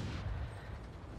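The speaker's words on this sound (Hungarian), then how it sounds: "Elengedtem még egy lövést, az ágyút is szokni kell természetesen" Tank cannon shot in World of Tanks, a T25/2 tank destroyer: a single deep, booming blast that rolls off into a low rumble.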